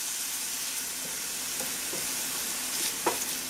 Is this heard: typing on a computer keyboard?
no